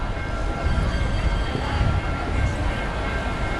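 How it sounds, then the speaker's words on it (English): On Nanjing Road in Shanghai, a train rolls through with a broad, steady rumble and rattle that stays continuous and fairly loud, close by, with no one talking. "It's a train coming through."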